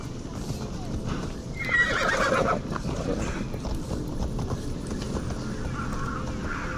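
A horse in the video game Assassin's Creed Odyssey gives one short whinny near the middle, over steady clip-clop hoofbeats and in-game ambience, while a person talks quietly at times.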